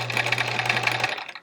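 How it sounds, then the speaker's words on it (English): A sewing machine stitches through a quilt block with a worn needle, a steady fast mechanical chatter running loud and close for about a second before stopping. "It feels like the needle's working a bit to get through the fabric"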